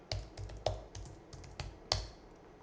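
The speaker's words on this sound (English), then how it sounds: "We can type." Quiet clicks of typing on a computer keyboard, about a dozen distinct keystrokes in an uneven rhythm, close and clear against a silent background.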